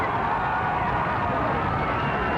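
Wrestling arena crowd cheering steadily at a 1984 CWA televised match, a broad, sustained roar with no breaks.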